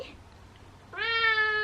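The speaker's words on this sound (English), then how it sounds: "She's purring away." An indoor house cat gives a single clear, drawn-out meow near the end, loud and close after a quiet stretch.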